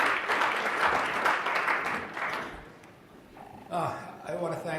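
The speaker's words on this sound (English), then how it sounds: "Let's give him a big round of applause." A luncheon symposium audience breaks into loud applause, dense clapping from many hands that fades toward the middle, after which a voice begins speaking over the last scattered claps.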